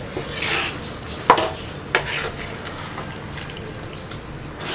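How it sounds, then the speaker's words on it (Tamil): Stirring lamb head curry with chana dal in a pot, with soft scraping and a couple of sharp utensil knocks against the metal near the start, then steady low stirring noise throughout. "இப்போ இதை நல்லா மிக்ஸ் பண்ணி விடுங்க."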